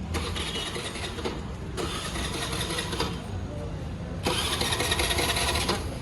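A faulty scooter engine starts up loudly and close by, coming to life in surges that drop back and then pick up again, with the motor running strongly by the end.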